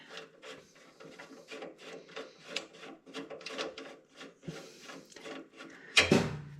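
Doyle rivet nut tool from Harbor Freight squeezed and turned, giving a close series of rhythmic ratcheting, creaking clicks, ending with a sharper metallic clunk.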